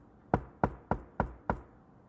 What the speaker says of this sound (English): until a knock at the door